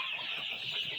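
Meat broiler chickens on a poultry farm cluck in a steady, close flock chorus with no pauses.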